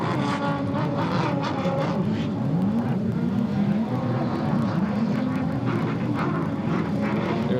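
Racing jet ski engines in an expert GP class at a water race, loud roaring and whining motors with rising and falling pitch as skis pass, continuous and fairly close.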